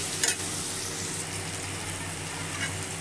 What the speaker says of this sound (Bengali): এরপরে এটা ভেজে নেব নেড়ে চেড়ে ভালো করে ভেজে নেব